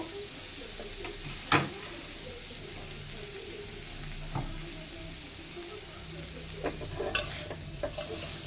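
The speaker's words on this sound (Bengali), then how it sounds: "খোয়া ক্ষীর দিলাম, ভালো করে নাড়বো।" Khoya kheer stirred in a pan on low heat for mango sandesh, a faint soft scraping and gentle sizzle with a few light clinks of the spoon against the pan.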